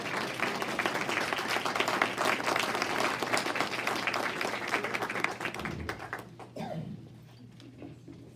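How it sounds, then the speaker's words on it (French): Dense audience applause at a church event keeps up steadily for about six seconds, then fades into scattered claps and a quiet room. "On peut l'applaudir pour."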